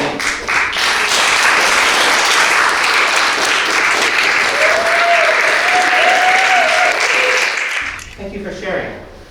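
Audience applauding artists called up at an arts event, a loud sustained crowd clapping with a voice and some tonal sound riding over it, fading toward the end as talk begins.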